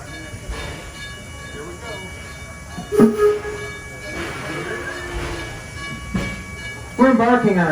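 The Torch Lake tourist train rumbles along at close range with a steady running noise, brief hissing bursts, and a few short squeals and clanks, while people talk over it near the end.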